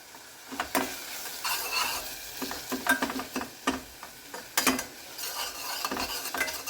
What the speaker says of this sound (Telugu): మిల్ మేకర్ కూడా వేద్దాం వేసి కొంచెం వేయిస్తే బాగుంటుంది